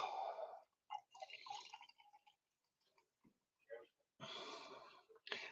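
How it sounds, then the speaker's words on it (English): Beer being poured from a freshly opened bottle gives soft gurgling and splashing bursts with quiet gaps between them, close and fairly faint, mixed with breathing and a little talk. "I'm terrible at pouring beer."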